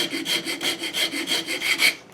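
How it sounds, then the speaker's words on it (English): A rasp files a wooden pinewood derby car in about nine steady back-and-forth strokes, close and fairly loud, with a rough scraping texture and no talking. "Let's go ahead and knock that off with a rasp"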